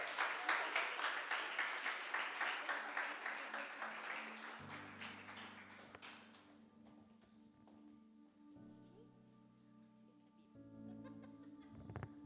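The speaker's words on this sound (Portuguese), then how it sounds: "Aplauda o nome do Senhor." A church congregation claps rhythmically for several seconds during a service, the beats slowing and fading as sustained organ or keyboard chords rise and hold beneath.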